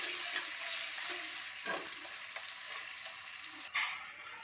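Spice masala for a Gujarati moong curry sizzles steadily in a pan, with a continuous frying hiss and a few soft scraping stirs, close and alone without talk.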